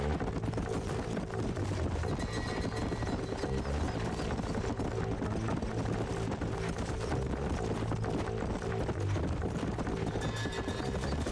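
Horses' hooves clip-clop in Red Dead Redemption, a continuous rapid clatter of galloping hooves at steady loudness over a low rumbling backdrop, with no talking.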